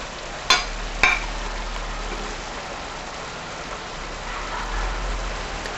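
Marinated pork fillet simmers gently in a thickened brown stock, giving a steady soft bubbling and sizzling hiss with two brief sharp pops near the start and no talk.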